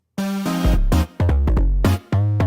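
A deep bass line in a jazzy beat, a run of loud, close, plucked low notes moving in steps with brief gaps, heard alone without talk.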